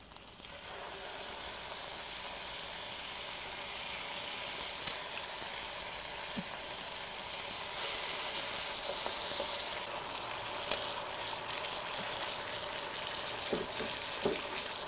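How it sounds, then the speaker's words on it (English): Pork spare ribs fry in olive oil in a pan, giving a steady, continuous sizzle and crackle that holds evenly throughout at close range with no talk. "now that we've got all the ribs in here cooking"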